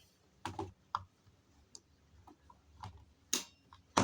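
Sharp relay clicks in a simple water pump control circuit with a single relay: a handful of scattered, dry ticks spaced irregularly over a few seconds, close and quiet, with no talking.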